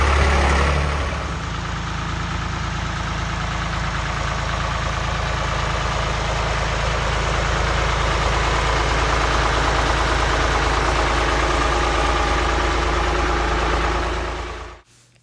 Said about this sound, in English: This is a tractor that we've had, but it hasn't been running.